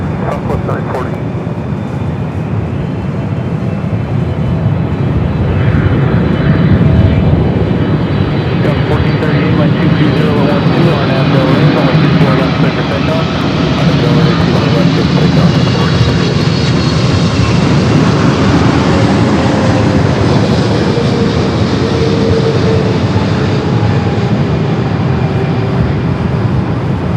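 A Southwest airliner lands on runway 24 right at LAX, its engines a loud, continuous roar with a slowly shifting whine that holds steady throughout, while radio voices talk over it.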